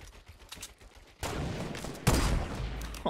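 Gunfire in the video game Fortnite: after a quiet stretch, a loud burst of shots erupts, and a second, heavier volley follows a moment later.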